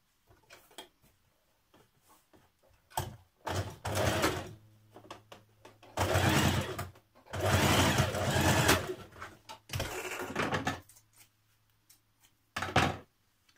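Sewing machine stitching the facing pieces of a jeans waistband together, running in several loud bursts of rapid stitching separated by quiet pauses, close and with no talking.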